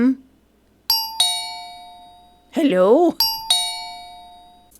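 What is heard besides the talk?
doorbell ringing repeatedly at a detective agency door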